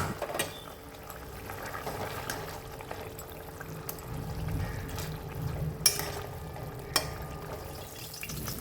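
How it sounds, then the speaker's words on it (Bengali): Bengali fish curry with pointed gourd and crisply fried fish simmering in a pot, a faint steady bubbling with a few sharp clinks and taps, close by and without talk. "তো এই মাছ দিয়ে একটু ফুটিয়ে নিয়ে নামিয়ে নেব"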